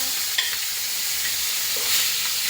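Eggs fry in a pan with a dense, steady sizzle and crackle throughout, fairly loud and close, with a faint scrape or two of stirring and no voices.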